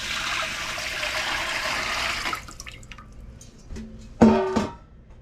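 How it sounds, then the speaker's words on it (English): Eight cups of water being poured into a cooking pot for a meatless rice dinner, a steady gushing splash for about two seconds, then fading drips and trickles, a brief clink and a short burst of splashing. "we're going to add our 8 cups of water."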